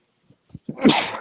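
A single sharp sneeze, close and fairly loud, preceded by a couple of small sharp intakes of breath.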